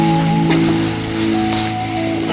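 Garlic-ginger paste sautéing in hot oil, a steady crackling sizzle that runs throughout over a constant tonal hum.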